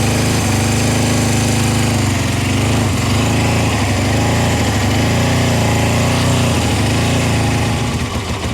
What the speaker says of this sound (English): I think only 1 cylinder's firing